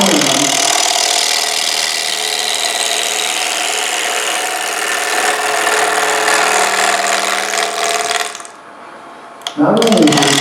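A gouge cuts a natural-edge square bowl spinning on a wood lathe, giving a loud, steady scraping hum that carries on for several seconds, then drops away briefly before a short burst returns.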